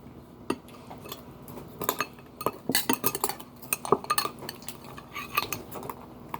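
A spoon stirs Nature's Cereal in a bowl, producing a close, irregular run of clinks and scrapes against the dish, with bursts of rattling at a busy, uneven pace.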